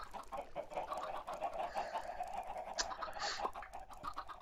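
Minecraft chickens cluck on a farm in the video game, a string of soft clucks and short squawks repeating at a moderate distance.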